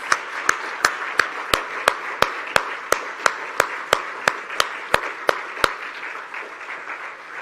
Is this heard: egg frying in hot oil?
no